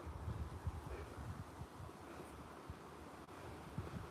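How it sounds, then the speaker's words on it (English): Outdoor wind blows faint and steady across the microphone as a soft continuous rush with slight gusty swells and no talk. "Got some cool breeze blowing."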